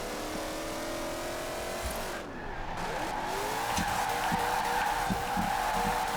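A car in Forza Horizon 4 holds a drift, engine revving steadily while the tires squeal in a long sustained screech that grows louder toward the end.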